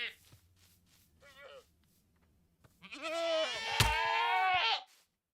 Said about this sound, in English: as you hear, one is a screaming goat